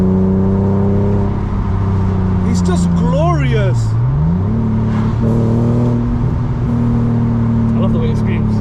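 A BMW E46 engine revs with a strong, steady harmonic drone that swoops up and back down midway through, while someone talks excitedly over it from inside the car.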